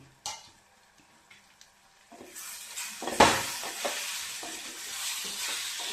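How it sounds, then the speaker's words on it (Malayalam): A spoon stirs lime pickle with chilli and salt in a pan: quiet scraping at first, then a louder sizzle and scraping, with one sharp metallic clink partway through. "ഞാനതൊന്ന് ഇളക്കി."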